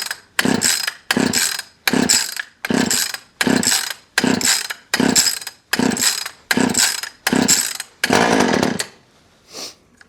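A small engine with its choke on and half throttle is pull-started about eleven times in a steady rhythm, each yank bringing a brief rasping turnover, before a final longer sputter fades into quiet.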